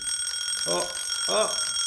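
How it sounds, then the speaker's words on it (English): An alarm bell rings steadily throughout, its high tones holding constant while two short voiced sounds rise briefly over it. "alarm bells are ringing"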